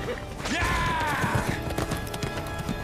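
Horse hooves clip-clop in the Nioh video game, a brief patter of hoofbeats under a sustained whinny-like tone and other game sounds.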